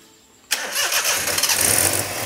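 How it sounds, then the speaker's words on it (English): A race car engine cranks and fires abruptly, then settles into a loud, raspy, uneven run from a massive exhaust leak, heard close with no talking. "Yeah, it sounds weird. Exhaust leak. Massive exhaust leak."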